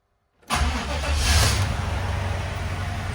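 After a brief silence, the stock LT1 V8 engine of an Impala SS with modified fuel injector data cranks and catches, then settles into a steady, loud idle close by.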